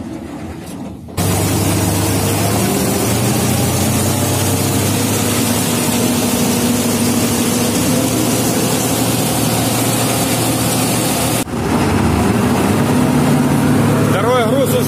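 A John Deere combine's chopper and threshing drum run during balancing, a loud, steady heavy-engine drone with low mechanical hum that drops out briefly near the end before resuming at full power.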